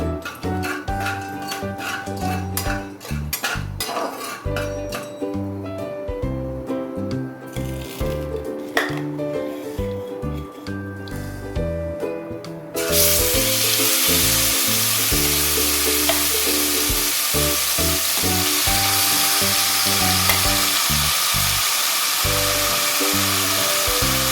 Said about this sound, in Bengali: এটা যেটা ফাটছে, গোলমরিচ ফাটছে